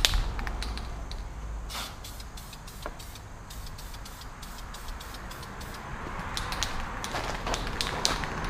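Spray cans of paint hiss in repeated short bursts onto sanded wheels, each spray a brief broadband rush separated by pauses, over a steady low background rumble, close and moderately loud.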